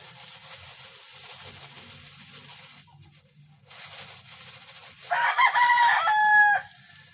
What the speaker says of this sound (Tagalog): Malalaking manok, napakain na po natin.